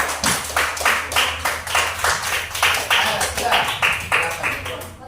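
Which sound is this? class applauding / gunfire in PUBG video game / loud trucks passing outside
class applauding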